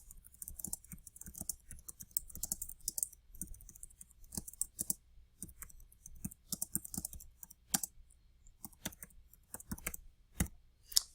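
Fast irregular typing on a computer keyboard, close and fairly quiet, with crisp clicks in uneven bursts and short pauses, no talk.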